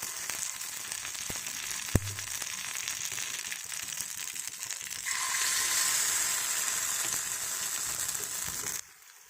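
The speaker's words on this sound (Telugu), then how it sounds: "ఇప్పుడు ఆయిల్ వేసిన తర్వాత ఇప్పుడు పిండిని ఇందులో వేద్దాం" Gunta ponganalu batter fries in hot oil with a continuous crackling sizzle that grows louder partway through, then cuts off at the end. No one speaks.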